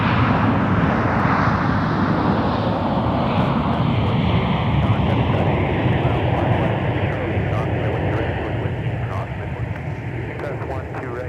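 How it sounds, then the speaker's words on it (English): An Airbus A319 jet arriving from Savannah, Georgia at Minneapolis–Saint Paul airport roars loudly and steadily, its broad engine noise slowly easing, with radio chatter faintly mixed in. "It's 319 arriving from Savannah, Georgia."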